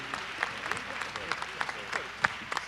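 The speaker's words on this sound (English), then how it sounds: "Let's give Alonzo Mourning another round of applause." An audience at a talk gives a round of applause, steady scattered clapping with sharper individual claps standing out, moderately loud and continuous over about three seconds.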